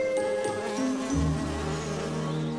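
Cartoon bee buzzing, a steady droning hum that wavers slightly in pitch and holds throughout at moderate loudness, with no voices over it.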